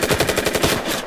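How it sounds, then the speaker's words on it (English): A machine gun fires a rapid burst in a video game, about ten tight evenly spaced shots over roughly a second, loud and close, ending abruptly. "Use your machine gun on his ass."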